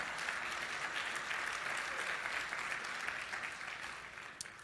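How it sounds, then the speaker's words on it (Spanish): Church congregation clapping during a worship service, a continuous wash of applause that fades slightly toward the end, heard alone without talk. "Démosle un fuerte aplauso al Señor."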